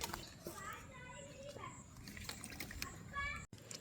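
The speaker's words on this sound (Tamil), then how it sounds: "இந்த லீட்ஸ் எல்லாம் நாங்கள் வெட்டிட்டு இப்படி கழுவ போகணும்." Cut leeks washed in water in a home kitchen: light splashing and sloshing with trickles, mixed with nearby talking and a voice.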